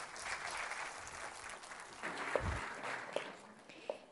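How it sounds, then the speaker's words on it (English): An audience at a Demo Day 2023 event gives a team a round of applause, dense clapping that carries on steadily, with a few sharper claps standing out near the end. "A big round of applause for our team."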